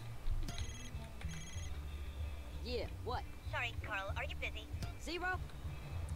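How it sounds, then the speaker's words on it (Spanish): A telephone in the video game GTA San Andreas rings with a few short, electronic rings at the start, and then someone talks over the faint game background. "Ahora sí, suena pinche teléfono"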